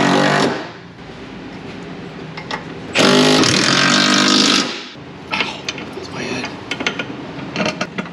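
A ratchet tightens a bolt on a 6.7L Powerstroke truck, with a loud grinding burst of a few seconds followed by rapid, uneven clicking, close by, with faint voices near the start.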